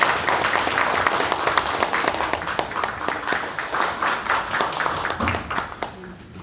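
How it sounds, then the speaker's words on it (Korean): An audience at a Korean War 70th anniversary ceremony gives a warm round of applause to welcome a speaker, steady crowd clapping that fills the hall and fades near the end, with a voice briefly heard under it. "힘찬 박수로 맞이해 주시기 바랍니다."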